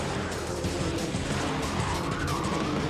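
Mini race cars in the Mini Challenge at the Australian Grand Prix roar past on the circuit, a loud, continuous engine drone with tyre noise holding steady throughout, close and dense with no clear talk over it.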